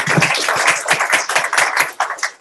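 A small group claps briskly at a crypto meetup evening. The individual hand claps are close and distinct, forming an uneven, lively patter with no voices.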